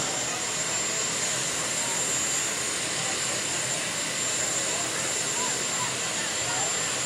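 A turbine engine runs at a county fair tractor pull, a loud, steady high-pitched whine and roar with a constant tone that fills the whole stretch without letup.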